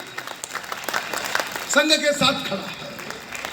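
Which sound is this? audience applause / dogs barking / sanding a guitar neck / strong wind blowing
audience applause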